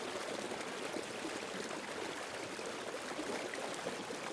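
A river flows past an old mill at Hardwater Crossing, a steady, even rush of water filling the scene without breaks, moderately quiet and continuous.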